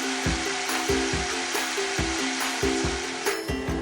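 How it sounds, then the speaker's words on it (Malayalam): Mixer grinder blending half a cup of coconut with water into a fine paste, with a steady close whir that pulses in a quick, regular churning rhythm. "ഇതിനായിട്ട് 1/2 കപ്പ് തേങ്ങ നമുക്ക് ആദ്യം അരച്ചെടുക്കാം."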